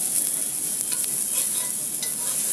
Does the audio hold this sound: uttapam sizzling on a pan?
yes